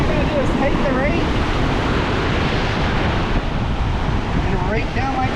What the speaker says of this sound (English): where you see waves hitting the surf